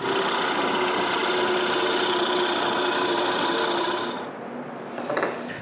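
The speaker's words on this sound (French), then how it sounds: "Je fais donc une marque puis je perce le trou." A drill bores a hole into a wooden nutcracker part, a loud, steady whirring grind close by that stops abruptly near the end with a short rattle afterward.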